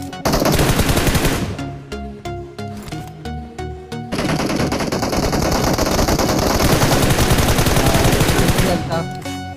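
Sustained machine gun fire from the battle royale game PUBG during squad gameplay, loud close bursts of rapid shots with brief gaps, continuing almost without pause.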